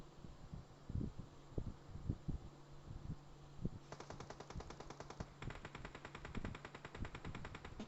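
Bursts of automatic gunfire from the PUBG Mobile game, with scattered single shots and then rapid sustained rattling fire.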